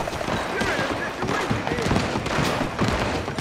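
Dense, continuous gunfire crackles through a Red Dead Redemption 2 shootout, many overlapping shots forming a loud, chaotic barrage with shouting voices mixed in.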